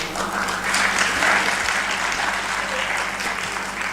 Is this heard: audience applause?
yes